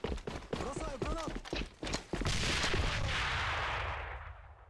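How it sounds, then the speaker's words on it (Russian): A grenade explodes in a military video game, a sudden loud blast that rolls into a long rumbling decay after a brief stretch of talking and clatter. "Бросаю гранату!"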